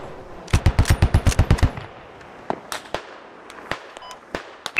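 A tight burst of about a dozen automatic gunshots rings out in the military shooter game Squad, close and loud, followed by scattered single distant shots and cracks.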